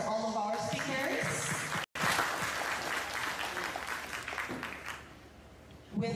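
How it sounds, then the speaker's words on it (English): Sustained audience applause for the speakers at a Telkomcel annual event, loud and dense clapping for several seconds with a brief cut partway through, then fading out near the end. "please give another big round of applause for all of our speakers"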